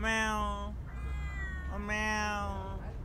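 A person imitating a cat, giving two drawn-out, nasal meows, loud and close, with a short pause between them.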